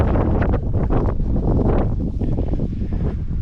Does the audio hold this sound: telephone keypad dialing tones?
no